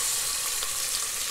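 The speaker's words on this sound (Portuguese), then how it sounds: "Vou meter um azeite na panela. Vou meter ele guisado aqui, que pro resto do país é carne moída." Ground beef sizzles steadily in olive oil in a pan, a dense, even crackle and hiss close up, with no voices over it.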